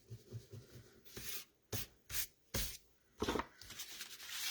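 A sand eraser rubbed across paper on a cardmaking desk, giving several short scratchy bursts with pauses between them, close and fairly quiet, with no talking.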